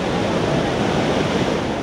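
Ocean surf at a beach where kids are surfing, a dense continuous roar of breaking waves with wind rumble, loud and steady throughout.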